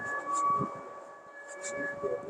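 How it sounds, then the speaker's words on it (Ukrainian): An air raid siren wails across Odesa during wartime, holding a steady drawn-out tone over a city street with faint traffic and background noise. "в місті Одесі повітряна тривога. Зараз."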